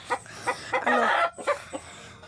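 Hens clucking close by while searching for a spot to lay eggs, a run of short, uneven clucks with one longer drawn-out call in the middle.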